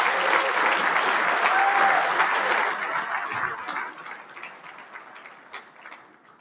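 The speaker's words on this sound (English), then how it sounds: "can we get a round of applause, please, for MCA, Ms. Ann Mitchell, the band, and the color guard" Audience applause fills a banquet hall at a Marine Corps Association installations and logistics awards dinner, a dense, loud wash of clapping for several seconds that then thins and fades to scattered claps.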